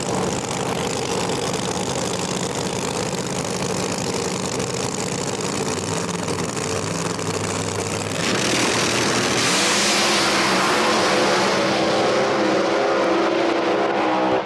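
Drag race cars at a Street Outlaws No Prep Kings event in Brainerd, Minnesota, one a pink Cadillac, idle with a loud rumble, then roar hard as they launch and race away, a sustained heavy engine blast filling the scene.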